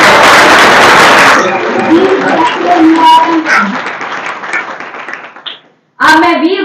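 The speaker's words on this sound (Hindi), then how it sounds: "एक बार जोरदार तालियों से स्वागत।" An audience at a Veer Bhagat Singh Yuva Dal event gives loud welcoming applause, dense clapping that fades out, then someone speaks over the microphone.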